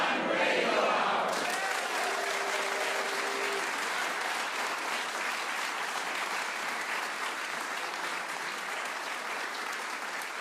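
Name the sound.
studio audience applause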